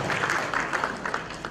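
Audience applause at an Indonesian comedy show, a short burst of rapid, moderately loud clapping from a crowd with faint voices mixed in.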